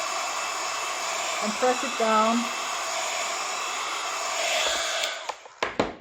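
A heat tool blows steadily on a paper card from the back, a constant airy whoosh under quiet talk, then a few clicks as it shuts off.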